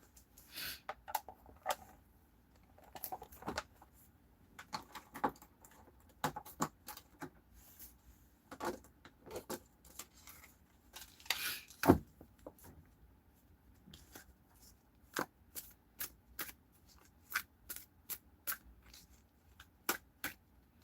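Tarot cards are shuffled in soft, irregular riffles and taps, close and quiet, with no talking.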